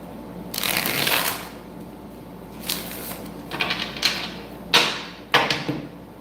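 A deck of tarot cards is shuffled close by in several crisp, riffling bursts, each a rapid flutter of card edges, with short pauses between them and no voices.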